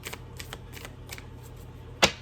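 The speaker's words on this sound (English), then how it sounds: "One more shuffle." Tarot cards riffle in a series of soft, quick shuffling bursts, then end in one sharp, louder snap near the end, heard close with no talking.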